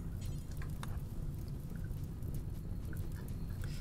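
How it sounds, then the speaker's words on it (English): Rain falls in the colony-building video game Rimworld as a soft, continuous patter with scattered light drops ticking over a low, steady wash, with no voices. "Oh, it's raining!"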